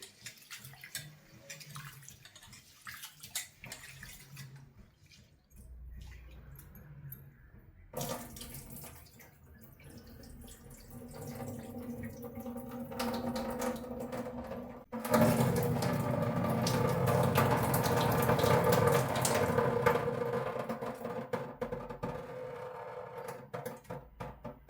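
Tap water runs steadily as rice is washed in a vessel for jackfruit village cooking, starting as a modest trickle and swelling into a louder, fuller gush of pouring and splashing in the second half, with no talk.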